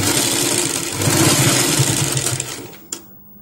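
A sewing machine runs a continuous stitch along a cloth baby diaper, a fast close mechanical whirring that stops with a sharp click near the end.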